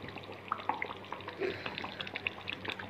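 Onion sauce bubbles and pops in hot oil, with irregular crackles and small bursts over a steady frying hiss, close and fairly quiet, and no talking.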